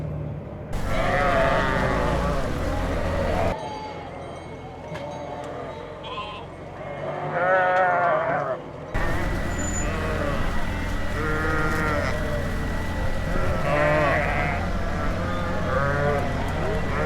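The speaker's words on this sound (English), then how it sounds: "You know you're getting close to Wyoming when you see a sheep roadblock." A large flock of sheep blocks a remote Wyoming road, bleating loudly and often, many overlapping calls close by, with people talking among them and the sound cutting briefly twice.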